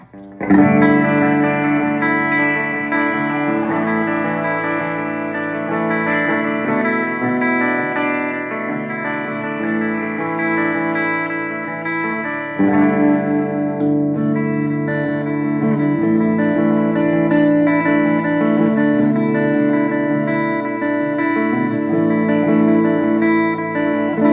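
Electric guitar played through an EVH 5150 III 50-watt 2x12 EL34 amp on its clean channel with delay, sustained chords ringing with echoing repeats, loud and continuous with no talking.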